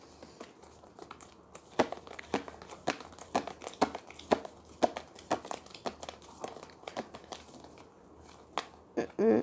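Tarot cards handled and drawn up close, with a run of quick crinkling, flicking and sliding rustles in uneven bursts, fairly quiet, under a soft voice.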